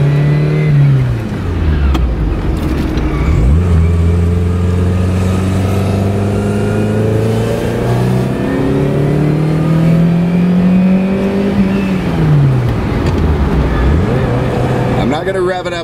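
A Ferrari 308 GTS engine revs and accelerates loudly through repeated rising and falling pulls, short-shifted while not yet warm, roaring close up for the whole stretch.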